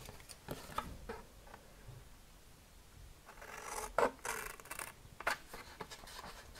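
Scissors snip fold lines into a paper craft box, giving short rasping cuts and soft rustles at close range, with a couple of louder crisp snips and no talk.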